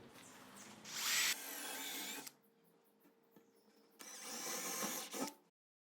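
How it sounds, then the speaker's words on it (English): A power drill drives a screw into wood for a DIY modern wooden sofa, with two loud whirring bursts separated by a quiet gap, close and sharp, ending abruptly. "after at the end we put the screw inside the wood"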